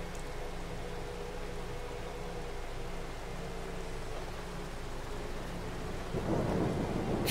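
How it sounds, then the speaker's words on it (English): A thunderstorm in Farming Simulator 22, with steady rain hiss under a low, continuous rumble of thunder that swells louder near the end, heard alone without talk. "Nice bit of rain to soak the seeds in, get them growing."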